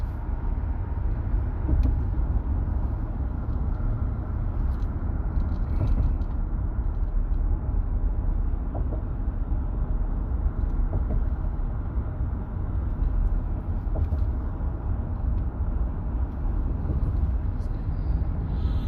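Steady low rumble of a car interior while driving on the road, continuous engine and tire drone with faint road noise throughout.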